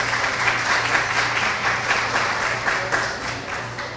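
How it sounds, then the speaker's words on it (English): A round of applause from a gathered audience at a government event, many hands clapping steadily and fairly loud for several seconds, with a low hum underneath and no one talking. "Everybody, if we could have a round of applause."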